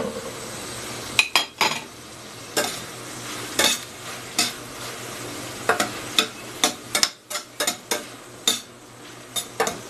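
Black salted beans sautéing in a pan for a pork chop dish, with a steady sizzle under repeated sharp clinks and scrapes of a utensil stirring against the pan, close and fairly loud.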